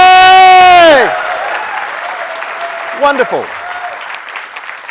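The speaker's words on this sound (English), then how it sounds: "burst into spontaneous applause such that you cannot hear the person speaking" An audience at a lightning-talks session breaks into applause right after a sustained electronic tone ends. The clapping carries on fairly softly beneath a voice speaking briefly.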